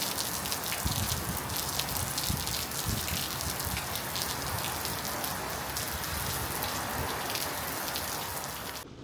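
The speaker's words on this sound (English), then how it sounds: "Another good little downpour. Oh, gutters overflowing again." Heavy rain pours steadily onto roof and ground while overflowing gutters gush and splash, a dense, continuous near wash of water lasting throughout with no talking.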